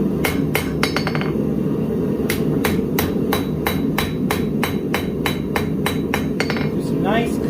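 Sharp metallic hammer blows ring out on an anvil while forging a Viking seax knife, coming in quick irregular bursts and steady single strikes, loud and close over a constant background hum.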